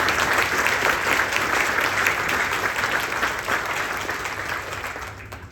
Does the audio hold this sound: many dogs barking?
no